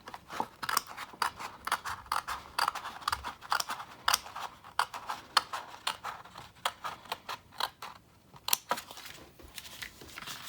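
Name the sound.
small sharp scissors cutting into paper card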